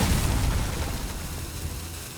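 A Holy Fire spell effect in the Hearthstone card game lands as a loud, dense burst that starts strong and fades over about two seconds into a low rumbling tail.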